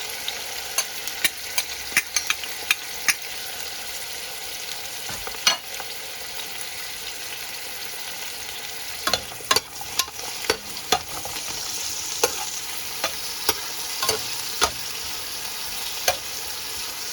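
Hot oil frying for biryan chicken and rice, a faint steady sizzle punctuated by frequent sharp crackles and pops, some clustered in quick bursts, with no voices.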